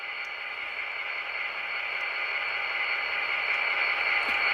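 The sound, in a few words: Walthers Proto EMD GP35 HO scale model locomotive running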